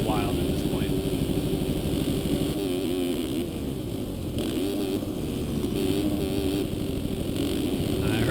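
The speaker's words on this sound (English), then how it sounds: "I heard a two-stroke. Where is it?" A two-stroke motocross bike engine in the MX Simulator video game drones steadily and buzzily throughout, with voices talking over it.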